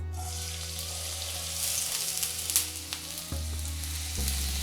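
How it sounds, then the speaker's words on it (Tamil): Medium onion pieces sautéing in two teaspoons of oil in a hot pan, a continuous soft sizzle with occasional stirring scrapes and clinks, fairly quiet and close. "இப்போ நம்ம வெங்காயத்தை வதக்கிக்கலாம்."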